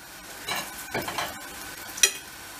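Eggplants and peppers frying in a pan, a soft sizzle broken by a few stirring scrapes and a sharp clink of a utensil, close and fairly quiet.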